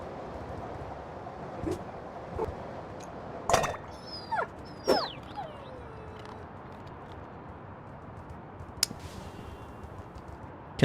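Dog whimpering and yipping in the video game Little Kitty Big City, a few short whines and yelps over a steady noisy ambient bed, moderately loud then fading.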